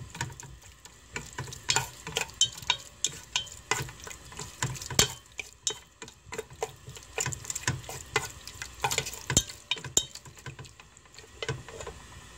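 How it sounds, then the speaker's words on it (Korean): Beef stir-fried in a pot with a steady rhythm of spatula strokes and clinks over a low sizzle, repeated many times at close range. "넣고 소고기를 3분의 2 정도 익을 동안 볶아줍니다."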